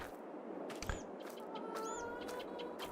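Chickens in a farming video game cluck and squawk in short bursts over a steady ambient background, with a couple of rising call notes standing out clearly.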